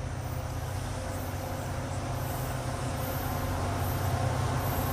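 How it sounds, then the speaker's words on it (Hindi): A pair of diesel locomotives, an EMD and an Alco, pass close by with a loud, steady rumble of heavy engines and rolling wheels that fills the whole clip without any break. "ये EMD का शक्तिशाली और कितना बड़ा लोकोमोटिव दिखता है ये।"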